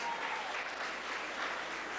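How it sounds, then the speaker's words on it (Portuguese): A church congregation applauds steadily during a worship service, a dense, even wash of clapping with no break. "Dá uma salva de palmas para Jesus."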